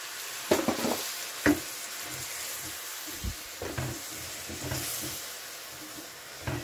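Washed, halved mushrooms are fried with golden onions in a pan for beef bourguignon: a steady sizzle broken by several scraping stirs of a utensil against the pan, close by, with no talking.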